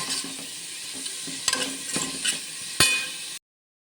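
Onions frying with salt in a pan for prawn biryani, a steady sizzle broken by stirring scrapes and a few sharp clatters before cutting off abruptly.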